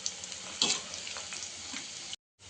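Onion pakoda batter sizzles and crackles steadily in hot oil, a dense frying hiss with a brief louder burst as more batter drops in, ending in a short silence.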